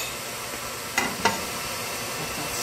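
Butter sizzling in a pan already preheated with oil, a steady close hiss of frying with two brief soft pops or scrapes partway through, no voices.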